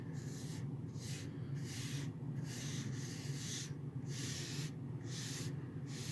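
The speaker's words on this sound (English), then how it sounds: "And then what I do is I sort of rub it in." Something is rubbed by hand into a tacky epoxy bartop surface in steady back-and-forth strokes, about eight rhythmic swishes in quick succession. The sound is close and fairly quiet, with no talking.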